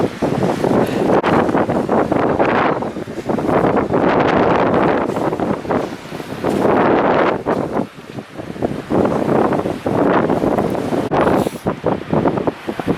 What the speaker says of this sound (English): it has been very windy, so filming has not been ideal